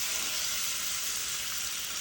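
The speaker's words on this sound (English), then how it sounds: "Y'all hear that sound? The sizzle." Large pieces of oxtail sizzling in a hot oiled pan, a dense, steady crackling hiss that is close and continuous with no talk.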